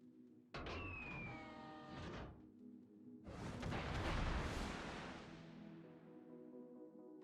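Heavy 2,000-pound HE bomb blasts in World of Warships, landing on the Bismarck. A loud broadband burst with engine drone underneath, then a second, longer roaring explosion that slowly fades over several seconds. No talking.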